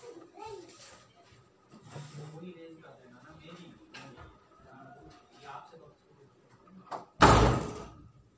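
An indoor door shuts with a single loud slam near the end, following quiet shuffling and someone speaking softly during a lecture.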